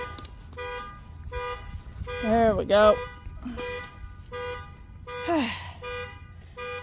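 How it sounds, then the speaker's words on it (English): Parked car beeping repeatedly outdoors, evenly spaced short electronic tones sounding steadily at a moderate distance, with a person speaking briefly and some rustling in between. "somebody's car just keeps beeping"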